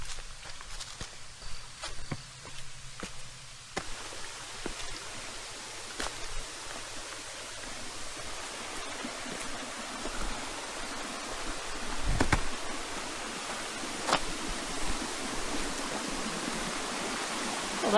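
A waterfall and stream in Shenandoah give a steady broadband rush of water that lasts throughout, with a few footsteps and faint knocks near the start.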